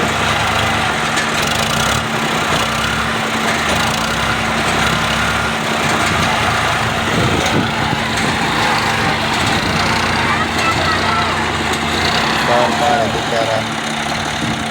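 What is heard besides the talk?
tractor engine trying to pull out a trolley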